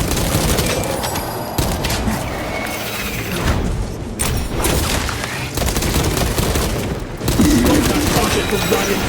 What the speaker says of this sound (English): Deploying fragmentation grenade